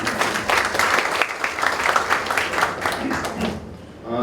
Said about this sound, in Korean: 큰 박수로 맞이해 주시면 감사합니다